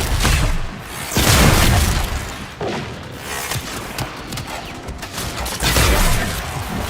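Enemy gunfire and booming blasts in the video game Warframe, with dense bursts and heavy thuds rolling continuously and swelling loudly at several points throughout.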